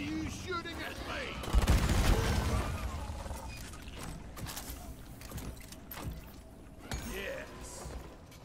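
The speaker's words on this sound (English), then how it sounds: "Why are you shooting at me?" Video game gunfire crackles in bursts under ongoing talk, with a loud cluster of shots around the second and third seconds and scattered lighter shots afterward, mixed with game music and effects.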